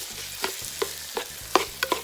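Store-bought chopped celery, onion and carrots sweating in a soup pot, a soft steady sizzle broken by occasional utensil clinks and stirring knocks, fairly quiet and close.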